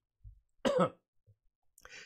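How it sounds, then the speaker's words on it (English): A single close cough stands out, followed by a fainter, breathy cough or throat sound a moment later in an otherwise quiet room. "I had a cough for a second."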